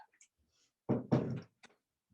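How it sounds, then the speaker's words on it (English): A door is shut indoors, producing a couple of close, muffled thuds in quick succession followed by a faint click, with near silence around them. "I just shut my door"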